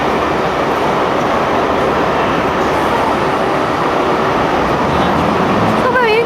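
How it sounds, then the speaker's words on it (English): Steady rumbling rail noise fills a deep London Underground station, a train running on tracks with a constant roar and faint rhythmic clatter, with no clear voices. "the first thing I did was take a little video of the train station"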